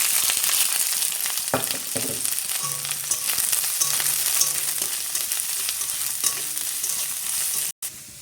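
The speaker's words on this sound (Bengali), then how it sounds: "এখন পেঁয়াজ লঙ্কাটা আলু ভাজার জন্য পেঁয়াজ লঙ্কাটা দিয়ে দেবো।" Onion and green chili hit hot leftover oil in a wok and sizzle loudly and steadily up close, with faint scraping stirs breaking through the continuous frying hiss.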